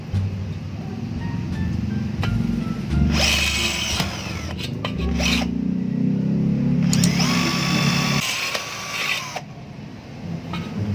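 A Xenon CDID 1845 18 volt cordless drill with an 8 mm bit runs in a few loud whirring bursts that bite into the material, with short pauses between them.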